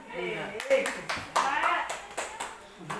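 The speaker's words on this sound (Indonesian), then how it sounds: "baiklah kita akan tepuk semangat lagi" Group clapping during a classroom tepuk semangat cheer, sharp claps in a loose rhythmic pattern mixed with children's voices calling out.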